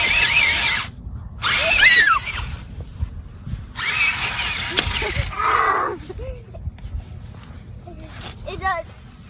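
A Monster Jam Megalodon Storm all-terrain remote control monster truck spins on grass, its electric motor whining in loud, uneven bursts with short gaps, while voices chatter over it.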